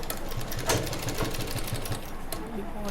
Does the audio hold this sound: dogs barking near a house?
no